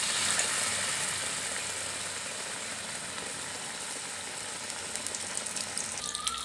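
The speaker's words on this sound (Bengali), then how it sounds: "এবার তেলে ছাড়বো" A bread slice dipped in besan batter fries in hot oil, giving a steady, close, even hiss and crackle that lasts the whole time with no voices.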